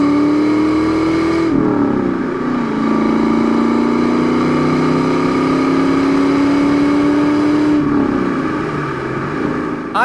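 A one-owner black 1992 Ford Mustang GT with a 5-speed manual pulls loudly from inside the cabin, engine note rising steadily through a gear, then dropping at a shift and climbing again.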